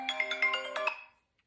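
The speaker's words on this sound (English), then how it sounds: "Excuse that phone call." A phone ringtone plays a quick melodic run of bright tones for about a second, then cuts off into silence.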